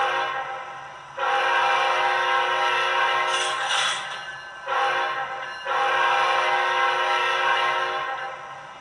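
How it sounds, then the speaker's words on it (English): A recorded real train horn played as a custom sound file through an HO scale model locomotive, sounding in three long loud blasts with short breaks between, alone and close. "I think it's just a little bit of an improvement over the factory horn"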